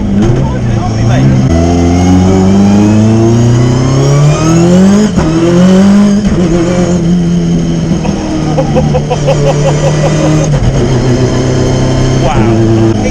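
A 500 BHP Ford Escort Cosworth Group A rally car roars from inside the cabin on a snowy day, its engine revving hard and rising in pitch through repeated gear changes, very loud and near, with voices talking over it.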